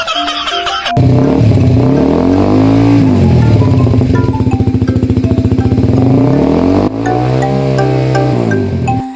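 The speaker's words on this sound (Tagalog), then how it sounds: "bago ako magpaandar ng motor" A motorcycle engine fires up and revs, its pitch rising and falling in loud, close surges with a brief dip before it climbs again.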